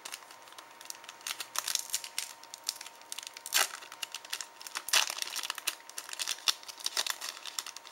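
Crinkly foil wrapper of a Battle Pack: Epic Dawn trading card booster pack torn and crumpled open, a steady run of close crackling rustles punctuated by a few sharper tearing bursts.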